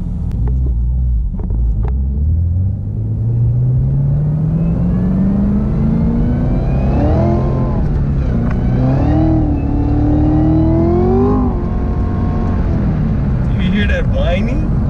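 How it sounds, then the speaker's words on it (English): A Dodge Challenger with an 8-speed automatic and a Roto Fab cold air intake revs loudly, climbing steadily in pitch through gears with a deep rumble, wind buffeting the microphone and voices talking over it. "Challenger sounds nice."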